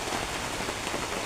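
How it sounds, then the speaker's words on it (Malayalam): Heavy rain pours down outdoors, a dense, continuous patter of drops on surfaces, soft in level but unbroken and without any voices. "ഭയങ്കര മഴ"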